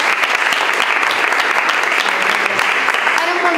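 Sustained audience applause during a talk on weakly synchronized clapping, a dense, even crackle of many hands that holds steady throughout, with a faint voice or murmur underneath.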